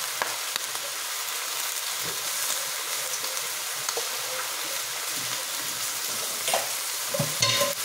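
Beans frying in a pan while being stirred: a steady close sizzle with occasional scrapes and clicks of the utensil, no talk.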